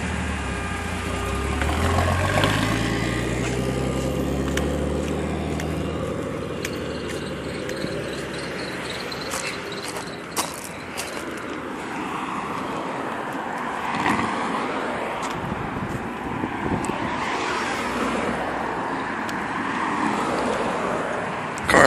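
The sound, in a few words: 240z single turbo car engine running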